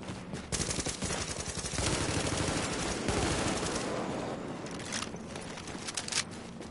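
A machine gun in Tom Clancy's The Division fires long, continuous rattling bursts, loud and close, before slowing to a few scattered shots.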